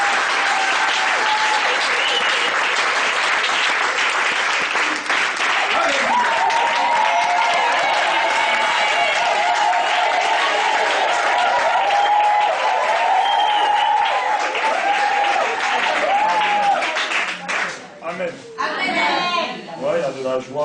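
A church congregation at a rosary and preaching service breaks into sustained loud applause and cheering, with voices calling out over the clapping, which thins out near the end.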